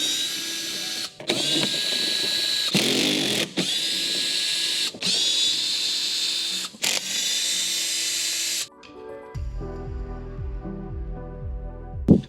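A power tool whirs in several sustained bursts with brief stops between, removing T25 screws from the rear wheel well liner of a Porsche 911 (992), followed by lower rattling handling noise.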